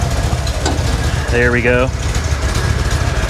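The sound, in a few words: air-cooled 1979 Porsche 911 Targa engine idling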